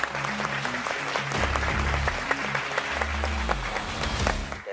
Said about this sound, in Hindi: लेट्स वेलकम आपकी बहुत सारी तालियों में जनाब फारूक सत्तार